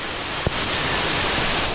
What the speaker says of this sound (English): the water comes in here, comes down. You can see it cascading down.